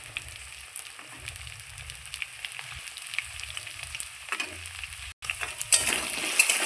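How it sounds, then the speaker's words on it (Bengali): Fenugreek seeds fry steadily in hot oil, a continuous close sizzle with light stirring scrapes and a brief break before the crackle resumes louder. "দেখুন আমি মেথিটাকে হালকা একটু লাল লাল করে নিয়েছি"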